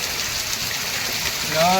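Rainwater gushes into a gutter drain line during a downpour, a loud, steady, close rushing wash that never lets up, with a brief voice surfacing near the end.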